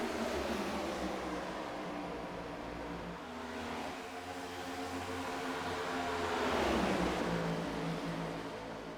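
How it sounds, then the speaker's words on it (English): Race cars in a racing video game at Atlanta circle in single file, a continuous layered engine drone that swells and shifts in pitch as cars pass, with no talking. "Get some engine noises turned up here."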